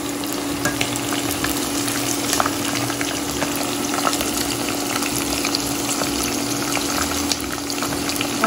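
Handful of curry leaves and thinly sliced green chillies sizzling steadily in hot frying oil, a dense continuous crackle heard up close with no talking.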